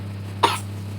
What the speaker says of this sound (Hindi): इतना खांस रही है यार बच्ची, बहुत खांस रही है।